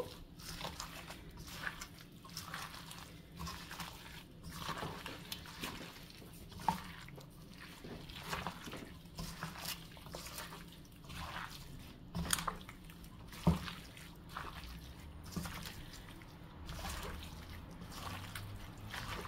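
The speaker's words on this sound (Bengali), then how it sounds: "তারপর খুব ভালো করে হাতে মশলা মিক্স করে নেব" Hands mix beef with whole spices and mustard oil, making soft, wet squelches and squishes in an irregular rhythm, close and quiet.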